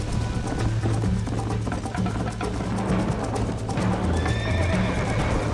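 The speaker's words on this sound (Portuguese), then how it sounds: "Calma que meu cavalo quase me tacou no chão." A horse in the video game Red Dead Redemption neighs loudly and gallops, with pounding hoofbeats over constant outdoor game ambience and several whinnies rising above the running rhythm.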